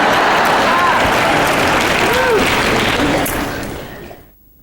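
Sustained audience applause from a large crowd at a sermon, a dense, loud clapping wash that holds steady and then fades out to silence at the end.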